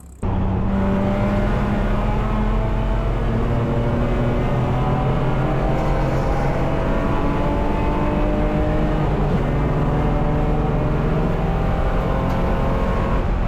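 An endurance race car runs flat out on the track at the 24 Hours of Lemons. Its engine drones close and loud and steady for the whole stretch, with a gear change midway and no talk.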